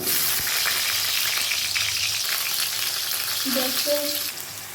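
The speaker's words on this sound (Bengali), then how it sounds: "এবার আলুটাকে ভেজে নেব লাল লাল করে।" Potatoes frying in a pan for a Bengali paneer curry give a steady, close sizzle throughout, with a few soft clinks near the end.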